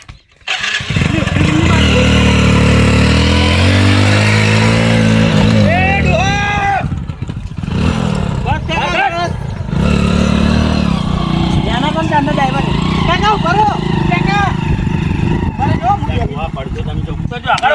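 A motorcycle engine revs hard and strains while the bike is stuck, the loud close motor rising and falling over several seconds as people talk and shout over it.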